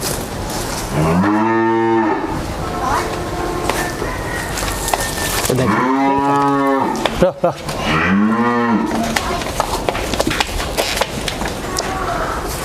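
Three loud, drawn-out moos from Red Friesian and Holstein Friesian dairy cows close by, spaced a few seconds apart, with low background noise and brief voices between them.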